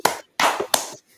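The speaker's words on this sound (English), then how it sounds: "Let's clap that up." A few sharp, separate claps from a small audience at an evening class, three quick bursts with short silences between, close and fairly loud.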